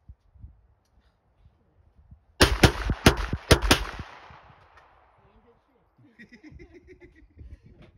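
A PSA JAKL rifle fires a fast string of four or five sharp, loud shots close by, the cracks ringing out briefly before quiet, with faint voices murmuring afterward.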